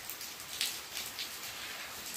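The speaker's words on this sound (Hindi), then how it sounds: "बारिश बहुत भयंकर हो रही है" Steady hiss of heavy rain falling, a dense continuous wash with a few brief sharper drips standing out, no voices present.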